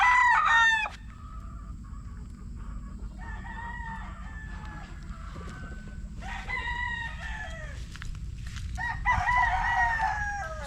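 A straight-comb sweater gamefowl rooster crows several times in full drawn-out calls, close and loud, with clucking and other fowl calls between crows over steady outdoor background noise.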